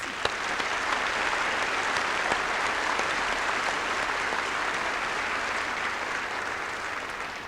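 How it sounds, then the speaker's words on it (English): At a public primary school music festival concert, the audience gives a round of applause for two flute players, a broad sustained wash of many hands clapping that holds steady and slowly eases off. "could you please acknowledge Sally Nanotti and Renee Anderson, who just played the flute for that number, with a round of applause"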